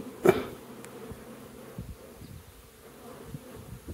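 Large honey bee mating swarm around an opened hive with brood frames: a dense, continuous low buzzing hum from many bees, with a sharp tap early on, close and steady throughout.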